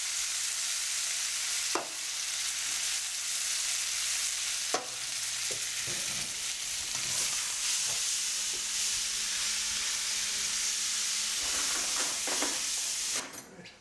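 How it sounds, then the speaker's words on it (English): Pemmican stir-frying with drained canned vegetables, salt and pepper in a pan, giving a steady loud sizzle and hiss throughout, broken by a few sharp scraping clicks of stirring. "I'm just going to stir fry all of that together"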